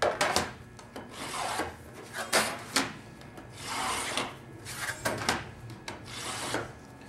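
A scribe scratching marks along 26 gauge sheet metal, a series of close rasping strokes in uneven bursts, some short and sharp, others longer and smoother, with no talking.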